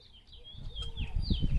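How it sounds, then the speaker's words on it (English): Birds chirp and sing outdoors in a garden during spring sowing, with faint whistled calls running across the clip over low rustling and handling noise. "Can you hear the birds?"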